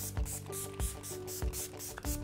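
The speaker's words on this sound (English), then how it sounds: "So I'm gonna spray my face." Milani Make It Last setting spray misted onto a face in short pumps, four quick hissing bursts spaced roughly evenly, close and fairly soft, with a faint click at each press and no talking.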